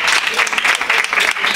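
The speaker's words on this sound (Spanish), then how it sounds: "aplauso para Marbella." An audience at an evening event in Marbella breaks into brief, dense applause, a short close burst of many hands clapping.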